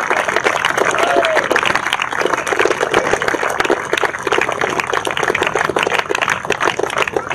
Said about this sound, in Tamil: கை தட்டலாமே வேகமா